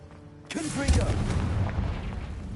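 The Confringo blasting spell from Hogwarts Legacy bursts in with a sudden booming blast, leaving a rumbling, crackling tail that fades slowly; a voice is heard briefly at the start.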